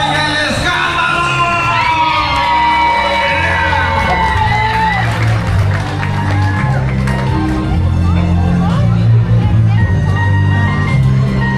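Wedding guests at a reception in Little Rock, Arkansas, erupt into loud, sustained yelling, whooping and cheering, with crowd noise continuing strongly throughout.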